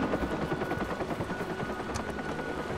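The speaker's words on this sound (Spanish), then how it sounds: "¡Corre, no lo pierdas! Sigue el helicóptero." Helicopter in the Watch Dogs video game, a steady rotor thrum with rhythmic chopping pulses that holds loud and close throughout, with no talk over it.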